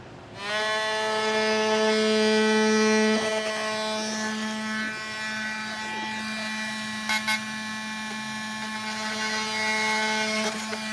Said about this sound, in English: I know the instructions tell me to trim these two bottom little plastic pieces off.